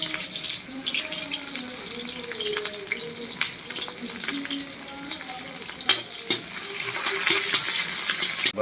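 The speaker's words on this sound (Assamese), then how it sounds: "এতিয়া পিঁয়াজ জলকীয়া ভাজি লওঁ আগতে" Onion and green chilli fry in oil seasoned with five-spice in a pan, a soft sizzle with intermittent stirring clicks and scrapes that grows slightly louder toward the end.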